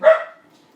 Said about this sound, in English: those are my dogs going crazy right now